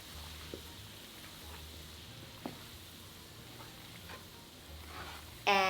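Chili flakes, sesame seeds, salt and spices whisked in hot oil held below 250°F, a soft steady sizzle with faint scraping taps, ending in a brief louder clatter.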